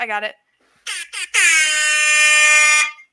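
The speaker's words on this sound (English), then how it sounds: "I was trying to get my air horn app to go, but it won't." A loud, blaring air horn from a phone app blasts in short bursts, then one long sustained honk of about one and a half seconds, close and harsh.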